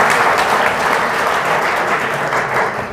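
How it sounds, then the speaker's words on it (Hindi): Loud, sustained applause from a room full of schoolchildren at a pharma-sector career talk, a dense steady wash of clapping that fades slightly at the end. "एक बार सभी बालकों से पुनः निवेदन कि शानदार ताली जोरदार तरीके से"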